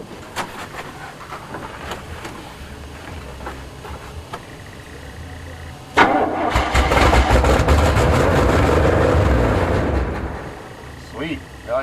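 A 1977 GMC 400 truck engine sitting unused for 7 years cranks and catches at about six seconds, then runs loud and rough for several seconds before easing off, with talking and faint clatter beforehand.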